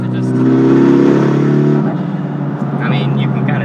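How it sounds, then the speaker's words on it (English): A 500whp Mitsubishi Evolution X engine roars loudly at full throttle, then the pitch and load drop as the driver lifts off. The engine keeps droning throughout, and a voice speaks over it. "So I have to keep going flat out, let off, flat out, let off in order to keep, you know, a good speed around the corners."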